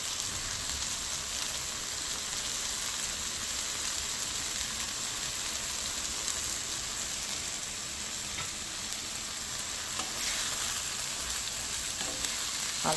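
Small kechki fish frying in a pan with chopped coriander, a steady loud hiss and crackle of hot oil broken by occasional scrapes of stirring, close by and continuous with no talk.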